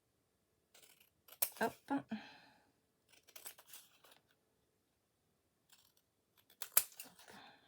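Scissors cut material for a small Christmas gift embellishment in a few separate crisp bursts of snipping with pauses between, while someone briefly speaks.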